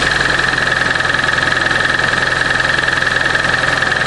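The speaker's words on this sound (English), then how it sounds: "Hear that lifter kick." Engine on a cold start with a lifter ticking, a steady loud idle with a fast, even rapid tick riding over a humming drone, close and unbroken with no voices.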